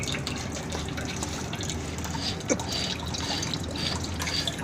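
Water runs from a pipe into a drainage channel behind a house during replacement of corroded hot-water piping, a steady close trickle and splash with faint drips.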